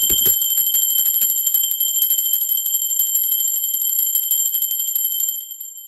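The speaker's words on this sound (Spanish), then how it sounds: "así que va campana" A bell rings to open a tarot reading, giving a bright, sustained metallic tone that shimmers and slowly fades after a quick rattling start; no one speaks.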